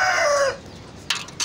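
Hen clucking and crowing up close, one drawn-out call fading after half a second, followed by two short sharp clucks, with no voices.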